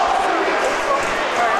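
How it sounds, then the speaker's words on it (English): A loud, steady roar from the crowd at a Long Beach Guardians hockey game against FDNY, with a commentator talking over the arena noise. "As we hear the crowd starting to get loud here for Long Beach."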